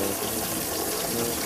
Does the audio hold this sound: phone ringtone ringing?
no